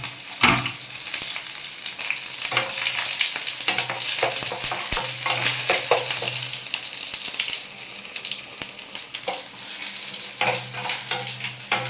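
Mustard seeds, onion and dried red chilli frying in a pan for a moringa leaf and lentil dish, a steady close sizzle broken by crackling pops and scraping stirs, with no talking.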